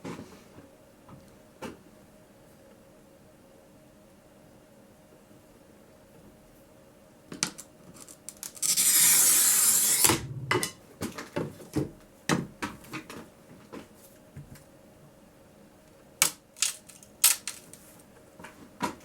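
A glass cutter scores a line across stained glass in one close, harsh, scratchy stroke lasting about a second and a half, followed by scattered small clicks and taps.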